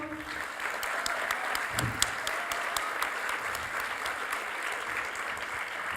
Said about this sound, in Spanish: una compañera que es Beatriz Sánchez, le voy a pedir un aplauso.